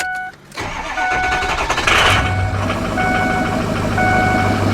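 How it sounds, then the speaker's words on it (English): A used pickup truck engine being restarted: a brief quiet pause, then the starter cranks and the engine catches and settles into a loud, steady idle close by, with no voices. "Let's see if she'll restart."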